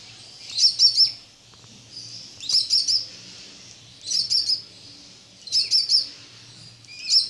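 Budgerigar chicks chirping in soft high bursts of three or four quick cheeps, repeating about every one and a half seconds, close by and with no talking over them.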